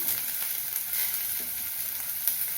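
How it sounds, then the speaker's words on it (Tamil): Chopped onions sautéing in hot oil for a snake gourd dal, a steady, dense sizzle and crackle that carries on without pause throughout, close up and with no voices. "எண்ணெய் காயட்டும் வெங்காயம் போட்டு வதக்கலாம்"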